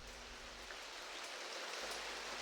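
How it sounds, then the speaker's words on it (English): Steady rain hisses across a broad band, a continuous wash of drops falling on a surface, fairly soft and even with no voices. "Rain."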